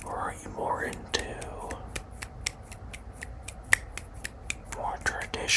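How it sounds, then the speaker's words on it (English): Fingers snapping in a quiet close-up setting, a run of sharp crisp snaps at uneven intervals, some in quick pairs, over soft whispering and light hand rubbing. "Do you like the snapping?"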